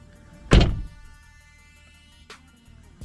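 A 2008 Pontiac G8 door swings open with its newly replaced handle: a single solid thunk, then a softer latch click a couple of seconds later, in quiet surroundings.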